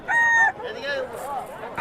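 Roosters at a cockfight market, tethered to bicycles, with one loud, close crowing call followed by fainter bird calls and a voice speaking over the scene.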